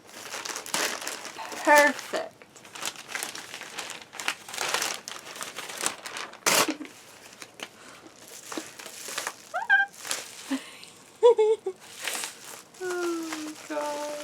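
Crinkling paper and plastic rustles in bursts as a package is opened, with a few short spoken words and scattered handling noises nearby.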